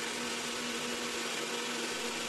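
A mixer grinder blends beetroot pieces into a paste, a loud, steady motor whine with a constant hum and rough churning throughout.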